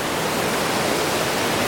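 Clean, powerful water rushes through a wooded gorge in Slovenia, a steady, dense hiss of flowing water with no other sounds.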